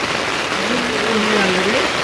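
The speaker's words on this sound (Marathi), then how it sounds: "तिकडे मस्त आणि जोरदार पाऊस पण आलाय" Heavy rain pours down at a Konkan bathing spot, a dense, even hiss that fills the whole moment, with a faint voice briefly audible beneath it.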